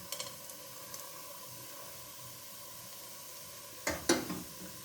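Whole garam masala sizzles steadily in a pot of hot fat for a chicken yakhni shorba, a soft continuous crackle with a couple of brief louder bursts of spattering near the end.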